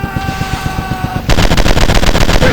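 Rapid automatic gunfire in the FPS Commando Strike video game, first as a steady stuttering burst under game music, then as a louder, denser stream of shots.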